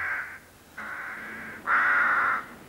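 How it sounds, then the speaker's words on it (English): Three loud, drawn-out caws from crows, close by and clear, separated by short pauses, the last one the loudest and longest, with no other sounds around them. "Chasing those thieving crows away, panted Uncle Onion."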